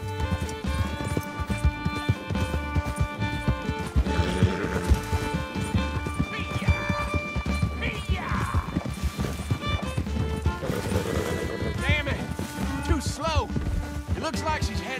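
In the video game Red Dead Redemption 2, a horse gallops with steady, rapid hoofbeats alongside an orchestral score, while a character speaks over the thudding pace.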